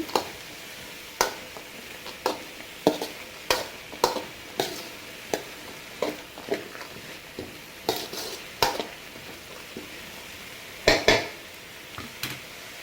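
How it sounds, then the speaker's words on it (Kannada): Chickpeas stirred and fried in a pan for a Malnad-style kadale palya, a steady series of spoon scrapes and clinks against the metal roughly every half second, with a faint sizzle beneath and no voices. "ಸೊ ಇವಾಗ ಕಡಲೆಕಾಳನ್ನು ಸೇರಿಸ್ಕೊಳ್ಳಿ ಮಿಕ್ಸ್ ಮಾಡಿ ನೀಟಾಗಿ ಇದು ಕೂಡ ಅದ್ರ ಜೊತೆಗೆ ಚೆನ್ನಾಗಿ ಫ್ರೈ ಆಗಲಿ"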